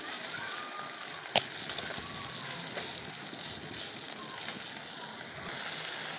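A pot of ground spices, salt and tomato simmers for a masoor dal with rohu fish belly, giving a steady soft bubbling hiss with one sharp click early on.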